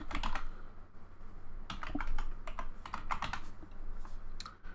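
Quick bursts of keystrokes on a computer keyboard, clicking in irregular clusters with short pauses between, close and clear with no talk.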